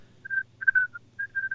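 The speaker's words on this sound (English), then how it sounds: "Sounds like somebody's whistling." Tuneful whistling from a person somewhere in the background, a few short melodic phrases around 1–2 kHz over a low steady hum, fairly faint and with no talk.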